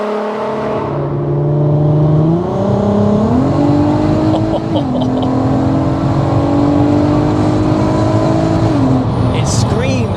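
A supercharged 450+ bhp VW MK5 Golf R32 engine accelerates hard, rising in pitch through several gear changes with a loud, sustained scream and supercharger whine, heard from inside the car.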